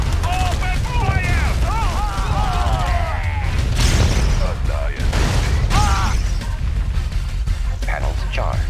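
Units open fire in a Red Alert 2: Yuri's Revenge battle, with rapid bursts of gunfire and mechanical clatter over a continuous loud rumble, mixed with chirping effects and game voice lines.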